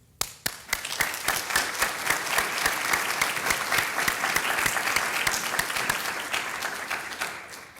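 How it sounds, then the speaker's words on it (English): Audience applause at a college of nursing white coat ceremony, starting with a few sharp claps, then swelling into a full, dense ovation from a large crowd that holds steady before easing off. "I want to give you all a great round of applause"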